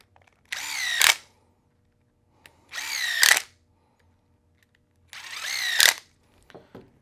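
Three short bursts of a power driver whirring screws through an aluminum hub into the wheel of a Losi Promoto-MX RC motorcycle, each spin-up ending in a tightening whine, with quiet handling clicks between.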